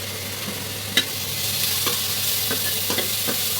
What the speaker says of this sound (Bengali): দিয়ে আমরা আর একটু ভেজে নেব।